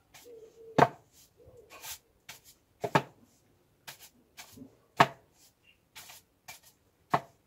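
A wooden broom's back end knocks against the floor in a broom dance, giving a series of sharp, close taps at irregular intervals, a few louder thumps standing out between softer ones.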